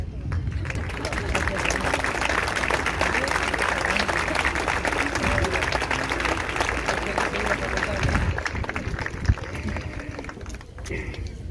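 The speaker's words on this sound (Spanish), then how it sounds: "¿Me tal vez si quiere aplaudir?" Audience applause at an official ceremony marking the 213th anniversary of the May Revolution in Coronel Dorrego: loud, dense, continuous clapping from a crowd lasting about eight seconds before thinning out.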